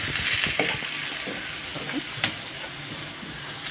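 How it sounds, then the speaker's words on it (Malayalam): Grated coconut being stirred into beetroot thoran frying in a pan, a steady close sizzle with soft scraping strokes of the spoon and a few sharper clicks against the pan. "തേങ്ങ ഒന്ന് ഇളക്കി കൊടുക്കുകയാണ്"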